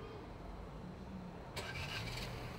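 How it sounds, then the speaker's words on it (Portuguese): A Fiat Pulse Audace T200 engine starts by remote start while the car sits locked. After a quiet stretch, the engine catches abruptly partway through and settles into a faint, steady running hum. "eu vou fazer um teste aqui a partida remota"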